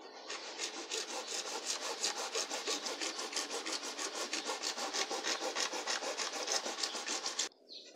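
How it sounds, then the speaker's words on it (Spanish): A hand saw cuts through PVC pipe with fast, even back-and-forth strokes, close and loud, before stopping abruptly near the end. "vamos a cortar el PVC"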